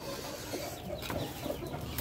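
An Aseel rooster gives low, short clucks close by, a few scattered throaty notes over faint background noise, with no talking.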